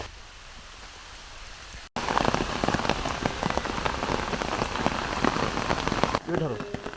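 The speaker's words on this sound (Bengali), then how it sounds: "আপনারা শব্দ শুনতে পাচ্ছেন হয়তো বৃষ্টি কিন্তু নেমে গেছে" Rain falls in the Malnicherra tea garden, a faint hiss at first, then a sudden loud, dense patter of drops hitting leaves and surfaces, with a brief low voice near the end.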